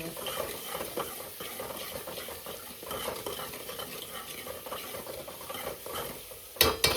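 Ginger garlic paste frying in a pan while being stirred, a steady quiet sizzle with frequent scraping and clinking of a spoon against the pan, ending with a couple of sharper knocks.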